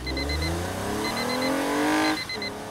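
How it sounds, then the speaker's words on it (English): A car engine revs up with rising pitch, loud and close, the whine climbing steadily before dropping off near the end. "cruising the open road in my new Toyota"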